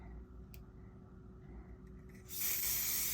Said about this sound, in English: spray on the back of this